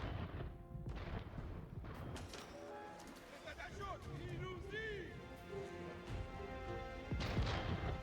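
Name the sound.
bombard cannons firing at fortress in a video game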